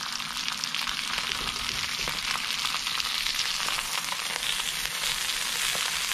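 Pan-size speared fish sizzling on a hot BBQ plate while being flipped, a loud steady close crackle and hiss with faint scraping, no talking.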